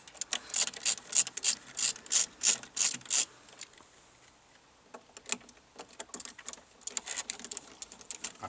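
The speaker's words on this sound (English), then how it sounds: "So I'll take these screws out." Screws being unscrewed from the chassis of an HMV Stereomaster 2419 record player, a run of about ten quick, even ratcheting clicks up close, then a pause and scattered fainter scraping and tapping.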